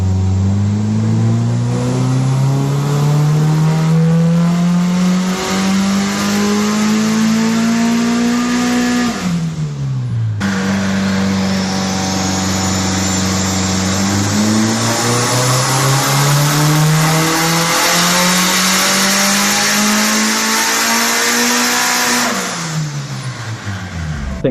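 Boosted Honda car engine revving hard, rising in pitch over two long pulls, each cut off with a sudden drop before climbing again, with turbo whine on top. It is loud and close, with no talking.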